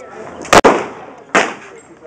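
Two sharp gunshots at an outdoor shooting range, about three-quarters of a second apart, loud and close, each with a brief ringing tail over low background chatter.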